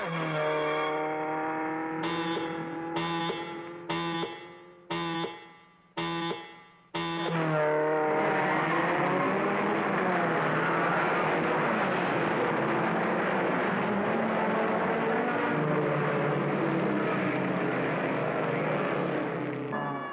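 Mach 5 race car engine at a race start: several short clipped bursts of tone, then a long sustained roaring whine with wavering pitch, loud and dominant.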